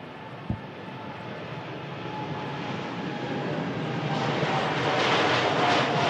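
A Boeing 787 Dreamliner passes overhead with a broad, steady engine roar that slowly swells louder, distant at first and then closer, with no talking.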